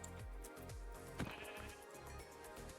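In Omnifactory, sheep bleat in a quick series of short, wavering calls close by, set against the game's quiet ambient background with nobody speaking.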